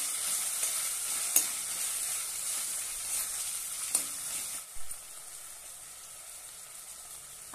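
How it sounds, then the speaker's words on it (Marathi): Finely chopped tomato sizzles in hot oil in a pan for kala chana pulav, a steady frying crackle with a few sharp clinks of a spoon stirring, heard alone without talk. "छानपैकी परतून घेऊया।"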